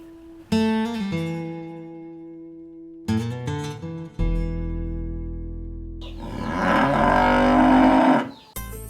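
Cows on a farm low repeatedly, with several long, loud, tonal moos in sequence, one deep drawn-out call followed by a rougher, strained bellow, with no talk.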